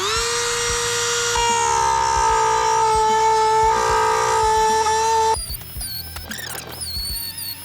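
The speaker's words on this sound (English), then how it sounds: "we're gonna use the Dremel with just a sanding bit" A Dremel rotary tool with a sanding bit whines at a high steady pitch, rising briefly, then grinds against the wood core of a Yamaha jet boat's clean-out hatch with a rougher, wavering tone.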